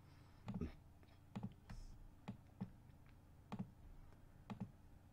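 Repeated computer mouse clicks in a quiet room while removing layers in image editing software, sharp close taps arriving in loose clusters about every second, some doubled, over a faint low hum.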